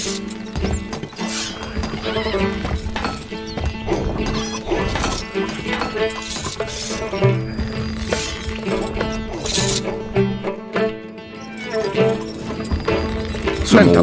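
Horse hooves clip-clop and a horse neighs amid the busy sound effects of the strategy game Stronghold Crusader, with repeated hoof beats, whinnies and sharp crashing impacts layered over background music and game voices.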